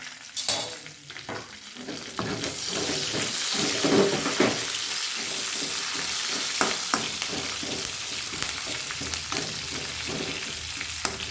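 Sabudana tempering with mustard seeds, cumin, green chillies and curry leaves sizzles and crackles steadily in hot oil while being stirred, with a few sharp pops near the start.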